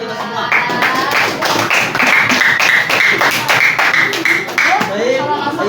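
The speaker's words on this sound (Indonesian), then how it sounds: "Tepuk tangan untuk kita semua." Students in a Year 7 Arabic class applaud together, a dense run of hand claps lasting several seconds, loud and close, with young voices calling out over the clapping.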